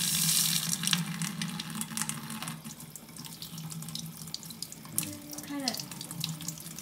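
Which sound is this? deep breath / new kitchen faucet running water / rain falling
new kitchen faucet running water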